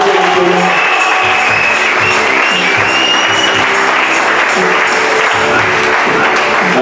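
A church congregation applauds during a sermon, a loud, continuous wash of clapping with a dense, unbroken texture that holds steady throughout.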